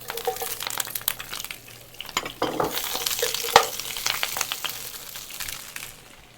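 Napa cabbage hits sesame oil in a hot pan and is tossed around, giving a steady close sizzle broken by scraping and clattering stirs.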